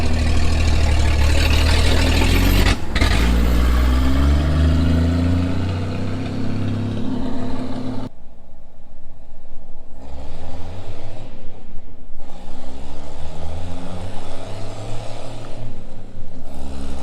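The engine of a 1949 White truck revs during a road test, rising and falling in pitch through repeated accelerations and shifts, loud and close with a brief break in between.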